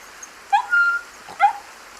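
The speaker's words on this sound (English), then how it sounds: "Then a single faint whimper." Two short, high whimpering cries from a drowning golden retriever puppy, the second following about a second after the first, faint against a steady background hiss.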